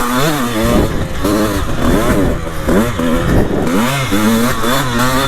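A 2003 Honda CR125 two-stroke dirt bike engine being ridden and jumped, loud and close, with sharp rising and falling revs as the throttle is worked repeatedly, raspy and continuous throughout.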